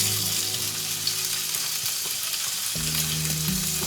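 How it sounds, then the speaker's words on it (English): Slices of pork belly fry in a pan like bacon, browning for burger sandwiches. A constant, close crackling sizzle carries on alone for the whole stretch, with a faint low hum underneath. "we're going to cook the pork similar to you would cook bacon, and we want a nice crusty surface on both sides"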